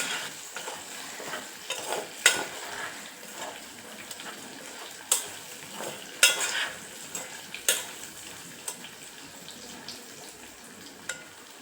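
Katurle (spiny gourd) and dal are stir-fried in a pan with a steady sizzle, while a spatula scrapes through the mix in repeated sharp strokes. No one speaks.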